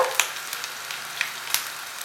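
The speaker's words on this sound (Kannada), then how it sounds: "ಬೆಳ್ಳುಳ್ಳಿ ಚೆನ್ನಾಗಿ ಫ್ರೈ ಆಗಬೇಕು" Garlic cloves frying in a pan give a steady, fairly quiet sizzle with a few crisp pops and crackles scattered through it. No one speaks.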